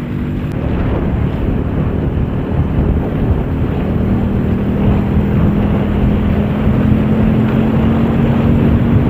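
Motorcycle engine heard from inside an NHK GP1000 Solid Black helmet while riding: a continuous low, muffled drone with a steady hum, blended with broadband wind rush, no voices.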